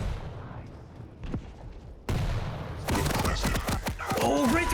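Railgun and other weapon shots in a Quake duel match: sharp repeated blasts and impacts in quick succession, growing denser and louder toward the end, with an excited commentator talking over them.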